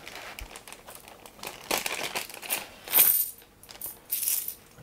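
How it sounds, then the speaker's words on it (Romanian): Metal coins from a special edition of The Castles of Burgundy board game are handled and dropped, giving a run of light, close clinks and jingles in uneven bursts over a few seconds, with no talking. "Monede metalice."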